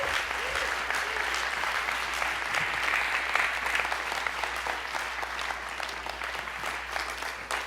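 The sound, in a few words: church congregation applauding the guest pastor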